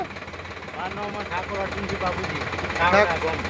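A tractor engine idles with a steady low rumble and knock on a farm during a castor seed-drill sowing demonstration, while people talk over it nearby.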